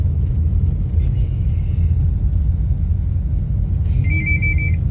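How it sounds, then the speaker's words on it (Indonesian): A mobile phone ringtone chimes briefly at the very end, a bright repeating melody over the low, constant traffic rumble of a nighttime street beside the central bus terminal in Sengkang, Wajo. "bunyi HP ku"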